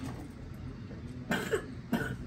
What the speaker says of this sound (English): Is it making you cough, the onions?